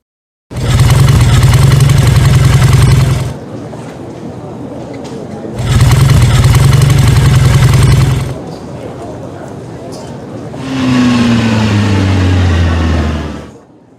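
A motorbike engine idles and revs in a few bursts, steady loud running with pauses between, ending in a rising and falling rev.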